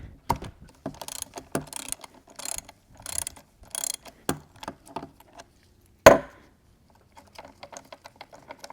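A ratchet works loose the shift detent spring bolt on a GM NP8/NP246 transfer case, giving quiet bursts of rapid clicking in short strokes, then a single sharp metallic clack and a few faint clicks.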